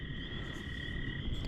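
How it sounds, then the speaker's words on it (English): Small frogs calling at night around a pond, a steady, continuous high chorus of chirping tones held through the whole stretch over low background rumble, moderately distant and fairly faint. "you can hear the little frogs out there, night frogs."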